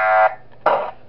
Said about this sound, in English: So for Wario and Peach, use the fire alarm to scare them off.